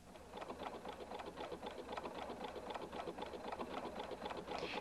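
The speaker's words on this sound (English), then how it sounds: "Sew across the bottom of the patch from right to left." A Husqvarna Viking Designer 1 sewing machine stitches steadily across a fabric patch, its needle running in a fast, even mechanical rhythm at close range with no talk.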